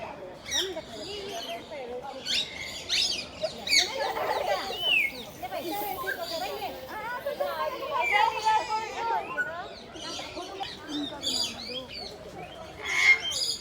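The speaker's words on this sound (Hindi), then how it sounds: "पक्षी घर है ये, तो बहुत सारे प्रकार अन्य प्रकार के पक्षी हैं।" Many kinds of birds call and squawk together inside a zoo bird house in Indore, a dense, busy chorus of chirps and chatter filling the space, with some background voices.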